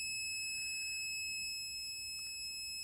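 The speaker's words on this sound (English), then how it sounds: "when I push the press switch, volume warning please, the horn will become louder" A steady, high-pitched electronic tone sounds continuously like a small toy horn, shrill and unwavering throughout, from a Snap Circuits kit horn.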